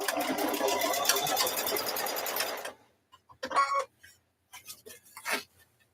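A sewing machine runs a steady, fast stitch on a pot holder for a few seconds, then stops, followed by several short bursts of stitching separated by pauses.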